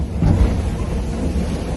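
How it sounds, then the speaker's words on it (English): Strong 35-knot wind and rain at sea on a solo racing sailboat in rough, lumpy conditions: a loud, continuous low roar and rumble filling the whole moment. "The wind's been up at 35 knots."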